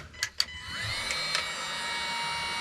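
Heat gun shrinking heat-shrink tubing on spliced wires during a cargo trailer bathroom build, a couple of sharp clicks followed by a steady blowing hum that spins up and holds, fairly quiet and close.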